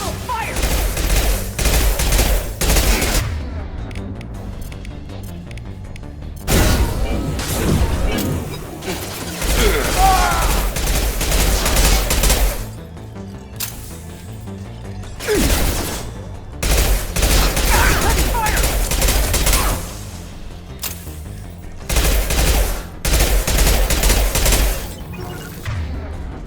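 Bursts of rapid gunfire from Mass Effect 2 in repeated volleys separated by short lulls, loud and close, with game voices and effects mixed in.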